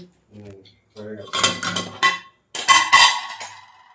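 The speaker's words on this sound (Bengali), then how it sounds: "আর এখানে যে কাটাকুটি চলছে" Vegetables chopped on a board in a home kitchen while rice and lentils cook for dinner, with clattering bursts of knife and utensil hits following a few brief voiced sounds.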